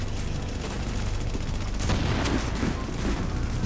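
Sustained gunfire in the video game The Division, a dense, loud wash of rapid shots and bursts with no clear breaks, running throughout.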